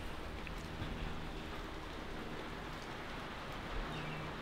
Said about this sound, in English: Just flat out pouring down rain.